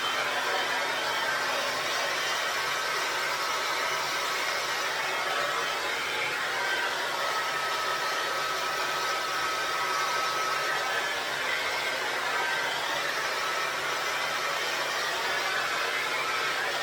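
A hair dryer blows continuously at close range, a loud steady airy roar with a faint whine, lasting the whole time without pause.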